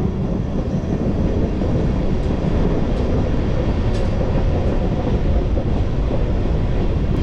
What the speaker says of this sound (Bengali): আমাদের ট্রেন এখন যাচ্ছে গরুমারা ফরেস্টের ভেতর দিয়ে